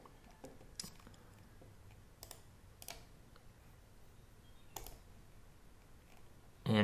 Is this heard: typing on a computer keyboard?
yes